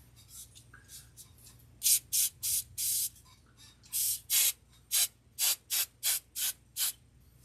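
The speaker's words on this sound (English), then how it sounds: "Where is the hairspray?" A can of hairspray releases a series of short, crisp hissing bursts, close up, roughly a dozen quick sprays in an uneven rhythm with quiet gaps between.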